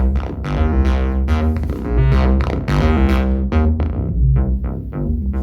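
Loud music through a Tangent 1602 analog mixing desk, with gritty, saturated distortion, punchy chords and notes that thicken and crunch as they hit.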